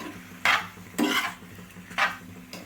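Homemade pasta frying in a pan while being stirred, with four distinct scraping strokes of a utensil against the pan over a low, steady sizzle, close and fairly quiet.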